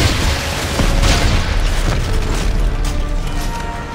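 A loud, deep rumbling boom from a rocket launcher explosion in the video game Dead Space 3. It fills the moment with sustained low roar and debris texture, close and heavy, with no speech over it.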